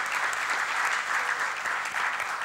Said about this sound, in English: give them a big applause to these teams which made this happen